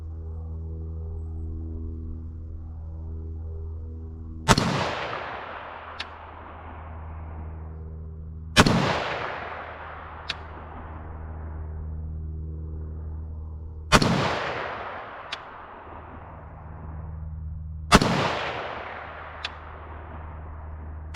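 Four single 5.56mm rifle shots firing 62 grain green tip penetrator rounds at a range, loud and sharp, spaced about four to five seconds apart, each trailing off in a long echo over a steady low engine-like drone.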